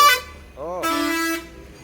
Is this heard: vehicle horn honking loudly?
yes